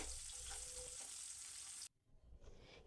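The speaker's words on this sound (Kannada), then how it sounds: "ನಂತರ ನಾನಿಲ್ಲಿ ಉಳ್ಳಾಗಡ್ಡಿನ ಹಾಕ್ಕೊಳ್ಳಿಕ್ಕತ್ತೀನಿ" Onions sizzling hard in hot oil for a tempering, a dense steady fry that cuts off abruptly near the end, then returns more quietly.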